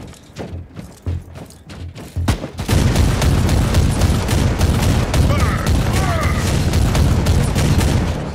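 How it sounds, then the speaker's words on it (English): A stun grenade goes off in the Warhammer 40,000: Inquisitor - Martyr video game, a heavy booming blast that rolls into a sustained roar of battle noise after a stretch of scattered sharp shots. "Oh my god, does that grenade do damage? Yeah, I think it killed them. The best stun grenade ever."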